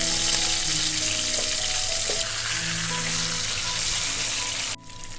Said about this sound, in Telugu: ఒకవైపు వేగిన చేపలను ఇంకో వైపుకు తిరగవేసుకుని బాగా వేయించుకోవాలి.